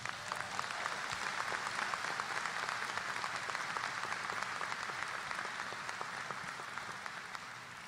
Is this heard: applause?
yes